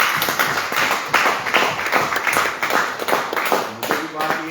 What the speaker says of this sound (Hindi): सबसे पहले मैं चाहूंगा एक जोरदार ताली